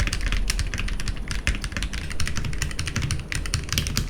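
Typing on a budget mechanical keyboard fitted with thick PBT keycaps, a dense, steady run of close, fast keystrokes with a deep, full clack and no voices.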